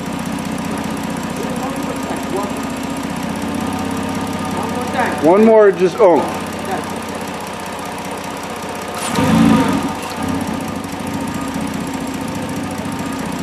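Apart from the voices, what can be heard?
Ford 3.7 Duratec V6 engine revving, exhaust note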